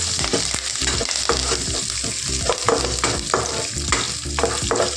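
Urad dal and tempering spices frying in hot oil, a steady close sizzle with frequent scraping and stirring strokes of a spoon against the pan throughout.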